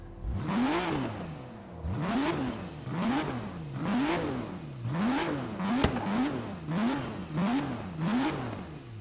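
A 2017 Ford GT sports car engine in a video game revs over and over in a steady rise-and-fall pattern, loud and close, about eight deep, throaty, gurgly surges with no talking.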